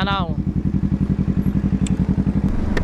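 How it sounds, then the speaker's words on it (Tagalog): A loud Kawasaki Z650 motorcycle exhaust on an expressway pulses with a steady, rapid low-pitched thumping rhythm, close and dominant, with a brief voice-like sound at the start. "Napakaingay ng muffler natin. Talagang dinig na dinig."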